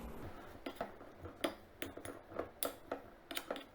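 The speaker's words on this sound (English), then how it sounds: "mix well to coat all the pieces with the dry spices" Potato pieces tossed with chaat masala and a little turmeric in a bowl, making a rhythmic series of light clinks and taps from a utensil against the dish, close and fairly quiet, with no talking.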